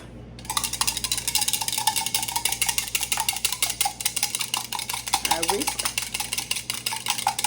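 Egg whites being whisked briskly in a bowl, the wire whisk clicking and scraping in a fast, steady rhythm that is loud and close.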